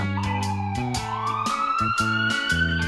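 A cartoon ambulance's two-tone emergency siren alternates rhythmically over a rising electronic wail, clear and close, with no voices.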